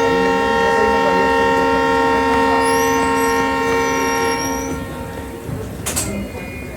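Passenger train at an Indian station setting off after the signal, the Dehradun Express on the Amritsar to Delhi route: a loud steady rumble with sustained tonal hum and a horn-like toot near the end, the sound easing as it pulls away.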